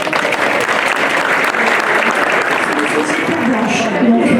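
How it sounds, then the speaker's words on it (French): Loud, dense applause from an outdoor crowd at a mid-August village festival in Mollières, Alpes-Maritimes, holding steady throughout with a few voices mixed in toward the end. "je pense qu'on peut les applaudir très très fort"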